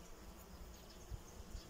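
Honey bees buzz in an apiary hive, a faint, continuous low drone with no voices.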